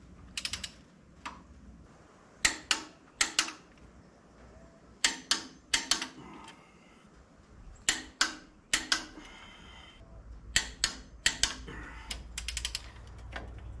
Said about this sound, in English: now we're gonna torque these bolts down here to 50 foot-pounds